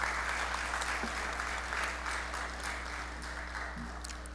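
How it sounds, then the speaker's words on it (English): Sustained audience applause for graduating parliamentary and transit police officers, fairly quiet and steady throughout, over a constant low hum. "I think they deserve again our sincerest applause."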